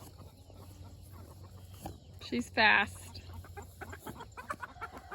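A chicken clucking in a garden, with scattered quiet clucks and one loud, sharp squawking burst midway, while a person speaks briefly nearby.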